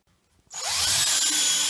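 A DeWalt drill whirs on steadily after a brief quiet start, driving screws through a board into slate flooring, loud and close with a rising pitch at spin-up.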